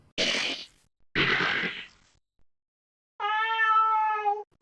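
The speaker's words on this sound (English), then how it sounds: "We hear the cat meow again" Cat in the Towelket video game meowing: two loud, noisy bursts followed by a clear, tonal, drawn-out meow, each standing alone with gaps of silence between.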